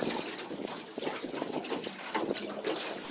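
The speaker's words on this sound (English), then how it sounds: "Give it a couple of up and down jumps in the water like this, and that'll help it dissolve more quickly." Bait bag jigged up and down in sea water beside a fishing boat, giving soft, quiet sloshing and gurgling splashes in an uneven rhythm, close by with no talk.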